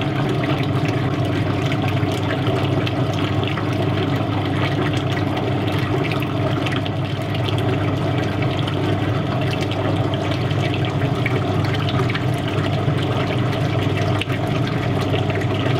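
A steady, continuous pour of liquid clay slip into a ceramic mould, a dense gushing wash that holds at an even level throughout.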